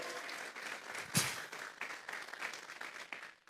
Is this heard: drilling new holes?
no